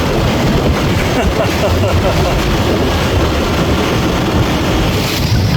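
Wind-driven waves wash against a sailboat's hull in steady, loud broadband rushing with constant wind noise, continuous throughout and with no talk.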